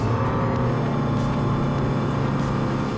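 A Selva 700 Stile motor boat engine held at full throttle, a loud, steady, droning roar with constant rumble and no letup, heard close and alone without talk.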